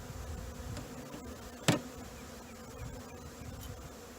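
Honey bees hum inside a bee package during hive installation, a close, steady drone with a brief sharp knock partway through.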